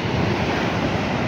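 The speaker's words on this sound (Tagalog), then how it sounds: "Oh, ang lakas ng alon, grabe." Loud, continuous crash and roar of strong ocean waves at El Nido, Philippines, with wind buffeting the microphone, no voices.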